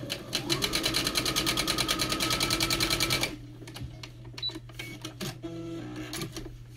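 A sewing machine stitching quilt pieces runs in a fast, even mechanical rattle for about three seconds, then stops, leaving soft handling clicks and fabric rustles over a steady low hum.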